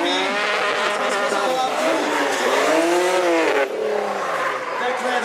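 Drift cars at a drift show scream their tires in long, loud wavering squeals mixed with high-revving engines, continuous and close throughout.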